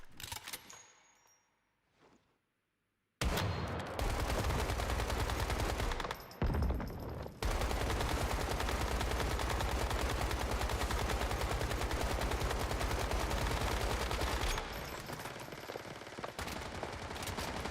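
Rapid automatic gunfire from the video game Once Human pours at a boss in a long, dense, loud burst lasting many seconds, with a brief pause midway and quieter moments before and after.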